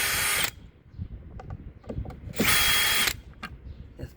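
A power drill backs long screws out of a Pelican Bass Raider 10e kayak, two loud, close bursts of whining motor separated by quiet clicks and handling noises.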